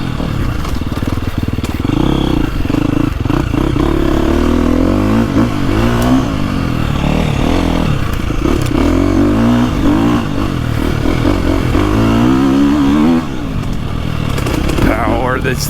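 A 2025 KTM 350XCF Factory Edition dirt bike engine pulls hard and long on a woods loop, holding a loud, steady, rising drone with rapid revving and clattering, close to the rider, with some talk over it.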